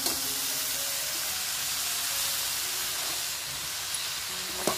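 Onions and green wild vegetables frying in oil in a home kitchen pan, giving a steady, close, even sizzle with faint clinks near the end and no talking.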